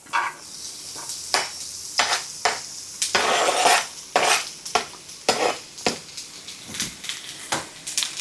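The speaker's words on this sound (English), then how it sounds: "I'm going to go ahead and add the onion to it first." Half a chopped onion and then ground beef going into a hot skillet for a keto bacon cheeseburger dish, with steady sizzling broken by repeated sharp clinks and scrapes of a utensil stirring against the pan.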